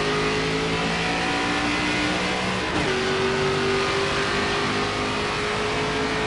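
A race car engine in NASCAR 25 revs loudly and steadily, its droning tone holding close and continuous, dipping briefly midway before climbing again.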